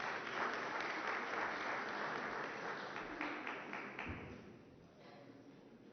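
Applause fills a press conference hall after the signing of a border management agreement, a sustained crowd clapping that thins and fades toward the end, with a few taps and thuds in the room.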